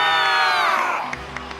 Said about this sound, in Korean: 우리의 영웅을 위해 최고의 박수와 찬사를 보내주길 바란다.